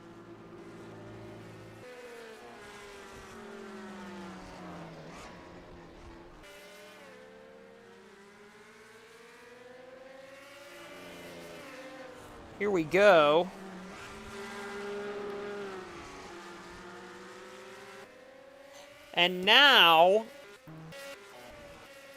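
Race cars lapping Sonoma in a sim racing game, engines droning steadily with rising and falling pitch and two sharp louder bursts as cars pass close, under continuous commentator talk.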